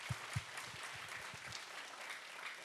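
Congregation applause at a Friday prayer meeting in a church, faint, steady clapping with a few louder low thumps near the start, heard at a distance.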